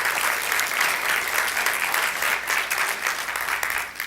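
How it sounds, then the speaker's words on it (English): Steady applause from a church congregation, dense and continuous clapping that holds at an even level throughout before easing slightly at the end. "Give them a round of applause."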